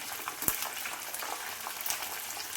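Fenugreek seeds crackle in very hot oil being prepared as hair oil, a close, moderate sizzle with scattered pops and one sharp crack early on, no speech.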